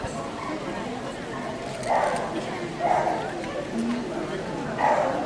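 At a dog show, dogs give a few separate barks spaced about a second apart, under a busy hall ambience and an announcer's voice speaking throughout.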